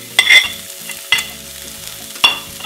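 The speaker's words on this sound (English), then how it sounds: "You're just gonna kind of stir fry it for a minute or two" Turkey stir frying in a little oil in a pan with scrambled eggs, a steady sizzle broken by three sharp scraping stirs, loud and close, no voices.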